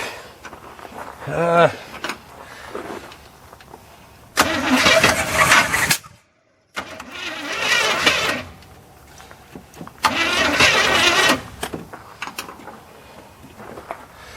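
The engine of a 1981 square body truck, left sitting in a field for 25 years, cranks in several bursts and catches briefly between quieter pauses. It is loud and close, with a short silence in the middle.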